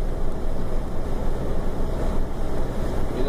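Strange noise from a truck's engine as the driver releases the accelerator on a mountain road descent, a steady low droning rumble with a faint hum, continuous and moderately loud.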